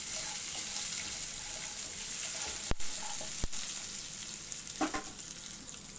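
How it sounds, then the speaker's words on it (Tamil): Semolina roasts in a pan with green chilli and ginger, a soft, steady sizzle broken by a few sharp clicks of a spoon stirring against the pan. "பச்சை வாசனை போகிற வரைக்கும் நம்ம ரவையை வறுத்துக்கலாம்."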